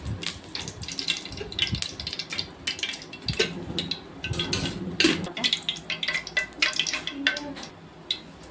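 Oil sizzles and crackles steadily in a pot while heating for crab curry, a continuous frying hiss with occasional louder pops and clinks of a utensil.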